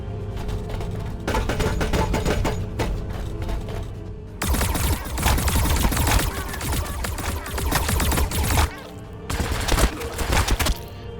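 Repeated bursts of gunfire rake Gretchin in a Warhammer 40000 Battlesector battle, loud rattling volleys coming in waves with brief pauses between them.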